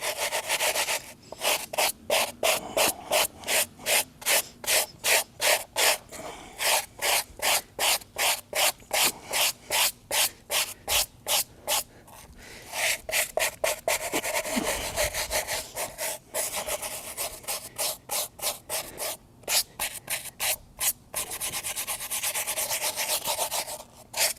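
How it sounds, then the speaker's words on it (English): A brush scrubs grooved rubber floor mats from a 2021 Volkswagen in steady, rapid back-and-forth strokes that rasp loudly and close up. The scrubbing pauses briefly a few times, then carries on without any talk. "Now these things are hard to scrub just because of the way they are, with all the grooves in it."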